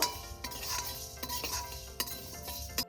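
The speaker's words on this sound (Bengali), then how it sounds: "প্রথমে একটু শুকনো খোলায় ভেজে নেব।" Whole coriander seeds dry-roasting in a wok, a soft crackle under regular scraping strokes of a spatula against the metal, close and fairly quiet, with a few sharper clinks.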